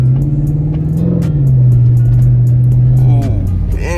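A newly installed car engine hums steadily, rising into a louder rev midway, then dropping off near the end, heard from inside or close by.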